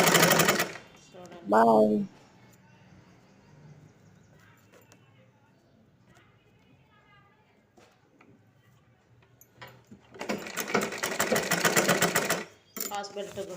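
A domestic sewing machine stitches blouses in bursts, with a short whirring run near the start and a long steady stitching run toward the end, while someone talks between runs.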